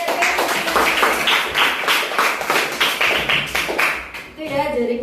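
A classroom of students bursts into applause for a classmate, a dense run of hand claps lasting about four seconds before tapering off, with a voice beginning to speak at the end.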